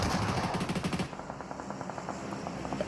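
Rapid, steady MG3 machine-gun fire in a PUBG Mobile esports match, a dense burst of shots through the first second, then lighter, more scattered gunfire continuing underneath.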